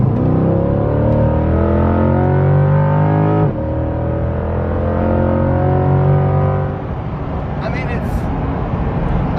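C8 Corvette accelerating hard in track mode, a loud close engine note climbing steeply in pitch through two gear changes, with a voice briefly audible.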